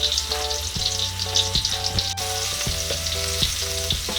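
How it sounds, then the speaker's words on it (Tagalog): Chopped garlic sizzles and fries in a hot pan, a steady close crackling hiss with occasional soft stirring knocks, no voices. "pwede na nating igisa itong ating bawang"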